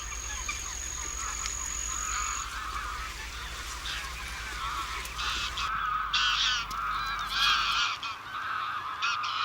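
Thousands of geese gather on crop fields near the Villafáfila lagoons in Zamora, Spain, feeding on sprouted cereal. The flock gives a dense, continuous chorus of overlapping honks, steady and moderately distant, with no voices.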